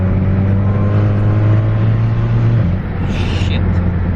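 VW MK6 GLI fitted with a cold air intake accelerating hard, a loud close droning engine note with a steady low hum that shifts as the revs change, without talk.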